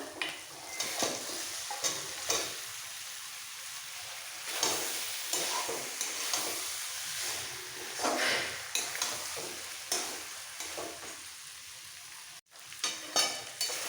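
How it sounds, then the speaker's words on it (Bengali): Thick frying sizzle with repeated rhythmic scrapes of a spatula stirring boiled mutton and spice paste in a pan, close and steady. "এবার মশলার সাথে একসাথে কষাবো"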